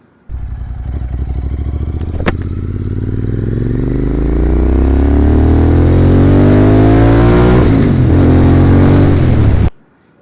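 A Royal Enfield Continental GT 650 motorcycle engine revs close by, its pitch climbing steadily through the gears for about nine seconds, loud and unbroken, with no voices.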